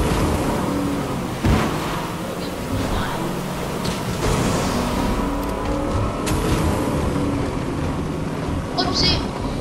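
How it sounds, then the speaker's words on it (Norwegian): A boat driven across land in the Fortnite video game, its engine droning steadily and loudly throughout under excited talk from players. "En båt som kjører på land."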